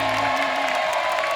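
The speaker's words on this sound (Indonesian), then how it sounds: "Tepuk tangan dulu buat keempat panelis kita." Studio audience on an Indonesian TV talent show applauds the four panelists, a dense steady wash of clapping with some cheering, loud and continuous throughout.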